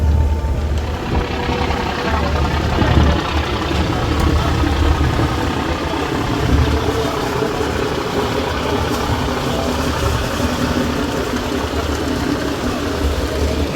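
The engine of the passenger launch Karnafuli 9 drones loudly and steadily throughout, a close continuous low rumble with vibration, on a river trip from Ilisha to Dhaka.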